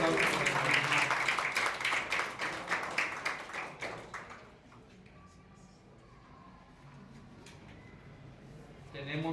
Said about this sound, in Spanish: Un aplauso por mi hermano.